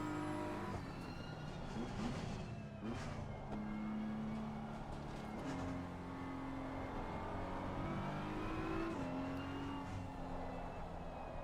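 BMW M4 GT3 race car engine in the Assetto Corsa Competizione racing game, a steady loud drone with stepped pitch changes as the revs rise and drop through gear shifts, continuous throughout.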